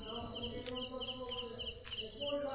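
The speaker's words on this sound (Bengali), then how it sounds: "চারিদিকে শুধু ঝিঁঝি পোকার আওয়াজ আর নিশ্ছিদ্র অন্ধকার।" Crickets chirping at night on a small island in the Sundarbans near Gosaba, a close, steady chorus of rapid pulsing trills.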